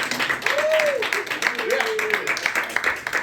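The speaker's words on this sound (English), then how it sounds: "you guys start clapping right now for the whole household, and give it up for Bam!" Comedy night audience at Robert's Sports Bar clapping and cheering as a comedian takes the stage, steady applause with whoops and a voice over it.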